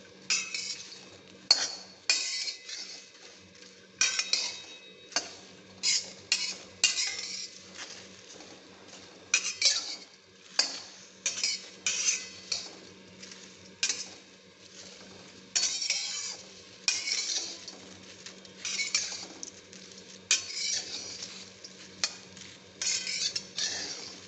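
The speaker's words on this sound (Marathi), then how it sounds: "गॅसची फ्लेम मोठी करायची आणि हे परतून घ्यायचं." Sliced okra is stir-fried in a pan over a high flame: a spatula clinks and scrapes against the metal in irregular bursts, with only a faint sizzle underneath.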